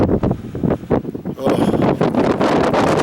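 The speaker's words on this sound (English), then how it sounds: "Pretty windy, so you have to excuse me if you can't hear me" Strong gusts buffet the microphone on Mt. Whitney in May, producing loud, continuous rumbling and rustling bursts that rise and fall throughout.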